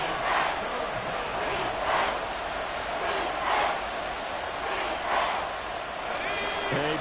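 A packed American football stadium crowd roars steadily through a Falcons NFL game, a broad, sustained wall of cheering with a few louder swells as fans rise for a big third-down play.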